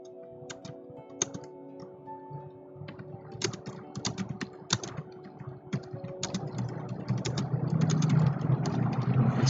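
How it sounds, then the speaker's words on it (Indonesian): Keys clatter on a computer keyboard as someone types in Microsoft Word, with irregular bursts of clicking close by over a low steady hum that grows slightly louder toward the end. "ketika kita mengetik ini cukup agak panjang lah misalnya ya"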